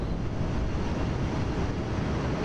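Rocket engines in the Kerbal Space Program video game roar with a continuous, loud, broadband rumble, steady and unbroken throughout.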